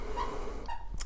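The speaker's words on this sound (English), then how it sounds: "that's my dog in the background." A dog whimpers faintly in the background of a quiet indoor room, with a couple of brief, high, thin whines spread across about a second.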